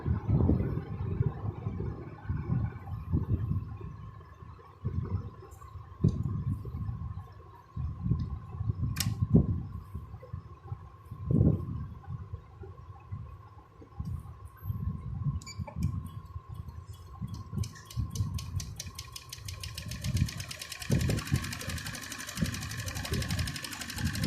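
A Janome 8200 sewing machine runs a straight stitch in steady, close mechanical bursts of rapid needle clatter, pausing briefly between runs, with a faint high whine toward the end.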